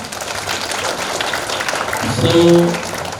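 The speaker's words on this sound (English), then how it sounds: "Clap for him." Applause from a classroom audience at a space lab inauguration, a steady wash of clapping lasting the whole moment and swelling slightly near the end, with faint voices underneath.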